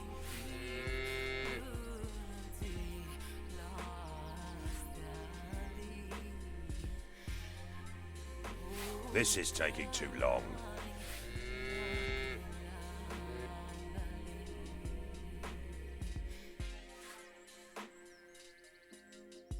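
A cow mooing in the video game Yaga, long low drawn-out lows over a busy game music and sound bed, with a brief line of speech partway through.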